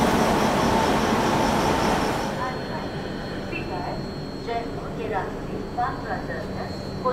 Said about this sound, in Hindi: यहाँ पे अरावली में EMD लोकोमोटिव जाके लग भी चुका है, छूटने के लिए तैयार है